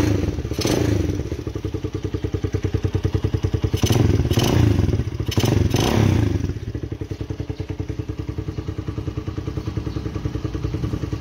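Vperman 150 motorcycle idling loud and close through an exhaust with one pipe removed, a rough, crackly, popping rumble with a few sharper blips of throttle along the way.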